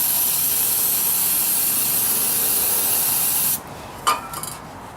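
Steady broadband hiss of cleaner sprayed onto tractor parts during an indoor changeover to mower mode, running continuously for several seconds, then cutting off, followed by a faint clink.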